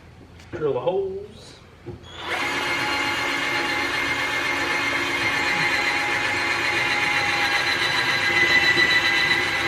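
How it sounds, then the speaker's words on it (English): A power drill whirs steadily and loudly for several seconds, drilling holes for side skirts on a BMW E36 M3, starting right after a short burst of voice and clatter. "Drill the holes."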